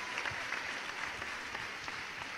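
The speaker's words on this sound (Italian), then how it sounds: "Un grande applauso." An audience in a television studio claps steadily, a dense, even patter of many hands that holds at moderate loudness without voices over it.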